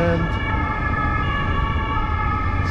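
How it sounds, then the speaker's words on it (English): Police and ambulance sirens wail continuously on a Zürich street, loud and steady, with layered tones over road traffic rumble throughout. "Now we have some police and"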